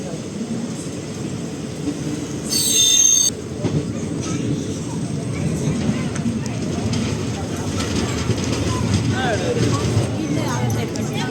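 A train between Velankanni and Chennai rumbles steadily along the track with a brief high metallic screech early on, voices faintly present beneath the rolling noise.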